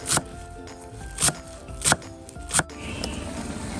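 A knife chops fresh coriander on a cutting board with four sharp, separate thuds spaced roughly evenly, close and distinct against a quiet kitchen background.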